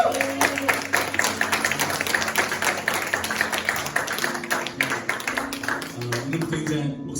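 A youth congregation at a worship service applauds, dense steady clapping filling the room for several seconds while a voice speaks over it.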